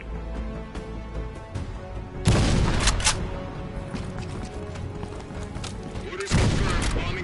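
Heavy gunfire in a Call of Duty: Black Ops Cold War battle, with dense bursts of shots, booms and a busy combat backdrop, swelling loudest in two sharp volleys.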